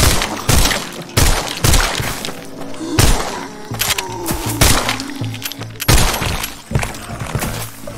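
Rapid bursts of gunfire from the zombie shooter Arizona Sunshine, played in VR, crack out in loud repeated volleys with shattering impacts, dense and close with no pauses.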